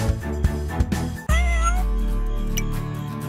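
A cat meowing in a video game, where the player's character is a flying cat: a single drawn-out meow rises clearly after a few soft thumps, set against steady game music.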